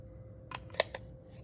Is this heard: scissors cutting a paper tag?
yes